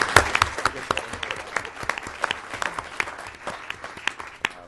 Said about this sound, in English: let's one more round of applause